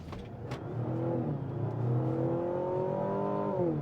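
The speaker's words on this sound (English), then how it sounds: "I am going to put us into sport mode, where we are going to test out the 4-cylinder gasoline engine and the 134-ish horsepower electric motor" A Mazda CX-70 PHEV plug-in hybrid, 4-cylinder gasoline engine paired with an electric motor, pulls hard from a full stop in sport mode, its engine note climbing steadily and holding a strong, close, continuous drone with no talking.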